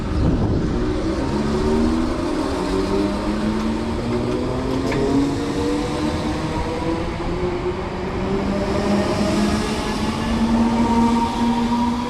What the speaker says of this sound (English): let's watch through on 3216 head out from here